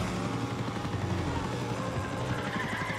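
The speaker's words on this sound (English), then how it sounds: "Helicopter, please. I don't want to deal with you." Police helicopter in the racing game Need for Speed: Undercover, a steady close rotor thrum with fast choppy blade pulses that runs unbroken and fairly loud, with no talk over it.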